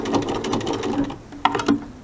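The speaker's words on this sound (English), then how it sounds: "I'm going to back stitch" A sewing machine back stitching the binding on a mini quilt, running in a steady close whir with a brief pause and two short bursts near the end.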